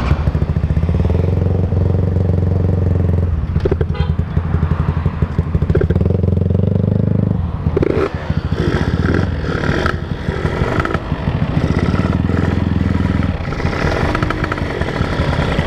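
A Yamaha Force 1 underbone motorcycle roars loud and steady at high speed in fourth gear, its engine note shifting and rising between gear changes with rough rattling and wind buffeting throughout.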